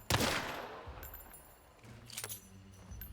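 Automatic fire from the Avto rifle in Hunt: Showdown, a short burst at the start followed by a few softer, scattered reports and clicks, fairly quiet overall.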